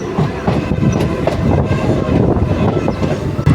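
The Teesta Torsa Express, running from Sealdah toward New Jalpaiguri, rolls along the rails with a loud, close, continuous rumble and rhythmic clickety-clack of wheels over joints, with no voices.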